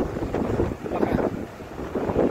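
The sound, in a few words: strong wind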